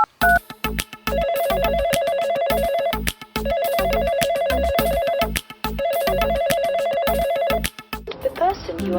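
A phone on an outgoing call rings back in three long repeated bursts of electronic tone, each lasting about two seconds with short gaps between, loud and close, before a short burst of other sound at the end.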